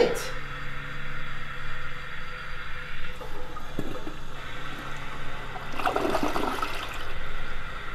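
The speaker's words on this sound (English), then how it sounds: "I mean the toilet." A toilet flushes with a loud whooshing rush of water that settles into a gurgling refill and trickling, close by, with people talking over part of it.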